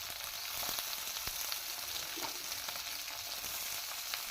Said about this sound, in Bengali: ভালো করে তাই সব সবজি দিয়ে কষে নিচ্ছি